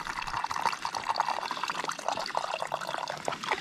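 Water filtering through a damp Beefree filter cartridge into a drinking bag at a Black Forest bushcraft camp, a steady close trickle and pour with small splashy bursts, continuous throughout with no voices.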